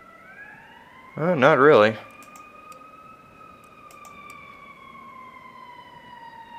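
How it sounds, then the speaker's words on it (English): An ambulance siren passes outside near a hospital, a brief, loud warbling yelp lasting about a second before dropping to a faint fading tone, while a voice speaks briefly. "there goes an ambulance. Look at that. Look at that ambulance go."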